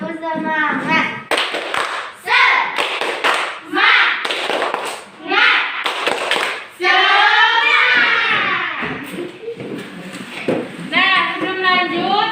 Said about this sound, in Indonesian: coba kau beri tepuk semangat dulu untuk teman-teman